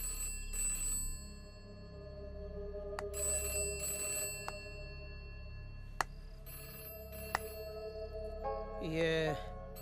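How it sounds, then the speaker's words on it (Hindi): A landline telephone bell rings in repeated bursts indoors, moderately loud and with faint background sounds between rings. "ये फिर से घंटी बजी।"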